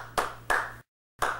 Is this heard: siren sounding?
no